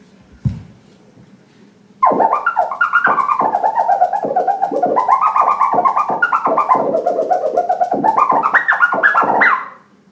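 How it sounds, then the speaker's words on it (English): A rapid series of chirping turntable scratches, warbling up and down in pitch like a bird call, loud and close, preceded by a brief thump. "Then you have a scratch that's called the chirp."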